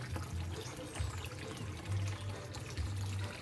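Water tap flowing, a faint continuous splashing trickle with low gurgling, brief and steady.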